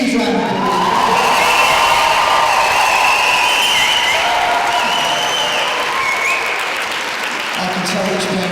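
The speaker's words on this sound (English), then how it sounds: "can you give them a huge round of applause?" An audience applauds warmly at a school guitar concert at Warwick Arts Centre, steady loud clapping with a few cheers and whoops, plus some voices in the crowd.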